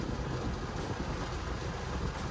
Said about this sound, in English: Car's getting wet. Just enjoying the rain though.